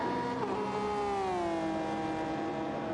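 A Honda NSX GT car in the Gran Turismo 7 video game, racing in a Daytona race, holds a loud, steady engine drone whose pitch climbs and settles as it shifts through gears.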